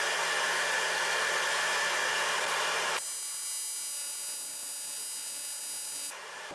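TIG welder arc on an aluminum cylinder head repair gives a steady hissing buzz, dense and broadband, shifting to a thinner tonal hum midway as the heat is adjusted, alone with no talk.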